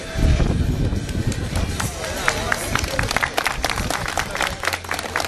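Crowd applause at a Polish harvest festival in 2007, dense broadband clapping sustained throughout with crowd noise and some talk underneath, loud and fairly near.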